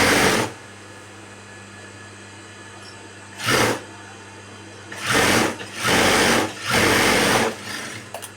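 A sewing machine stitches a blouse lining in short bursts: one brief run, then three longer whirring runs in quick succession, close and loud, separated by quiet pauses.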